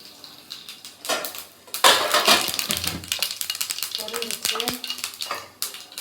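Mustard seeds hit hot oil in a pan while a fish curry is cooked late at night, setting off a burst of loud crackling and rapid popping that eases into scattered spatters and a few metal clinks.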